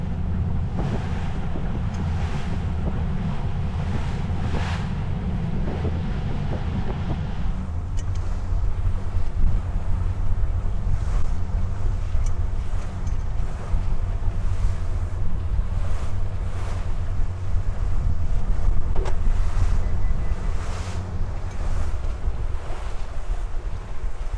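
A small boat motoring across open ocean toward a stone crab trap, steady engine drone with hull slapping on waves and heavy wind buffeting the microphone throughout.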